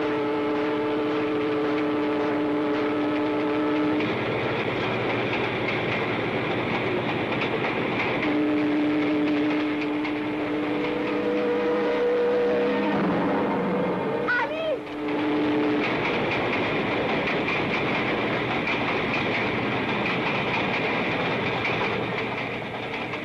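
A train passes along the rails, a loud rolling rumble with clickety-clack rhythm and sustained tonal hum, briefly shifting in pitch midway as if a horn or brake sounds, then continuing steadily.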